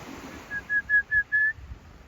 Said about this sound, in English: That's the whistle I taught him when he was a baby.